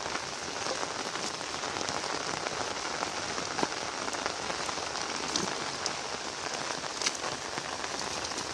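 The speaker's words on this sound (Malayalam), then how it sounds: "മഴ പെയ്തുകൊണ്ടിരിക്കുകയാണ്" Steady, dense rain falls on a surface around an outdoor pond fishing spot, a continuous close hiss with scattered drop patters and no voices throughout.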